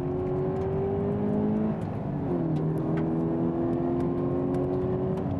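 A drift car's engine revs steadily while braking and downshifting, a smooth sustained drone that dips briefly as the gear changes, then holds again at a constant moderate level with no voices.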